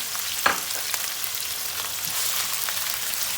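Carrots sizzling in a hot frying pan, a dense steady hiss with a sharp pop as they hit the oil, close and alone.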